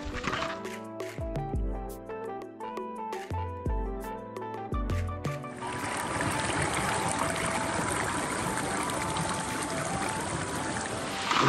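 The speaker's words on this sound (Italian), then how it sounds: "del fiume, di questo torrente" A mountain stream in an alpine valley rushes steadily along a riverbank, its broad continuous wash growing fuller and louder after a stretch of clattering, knocking sounds at the start.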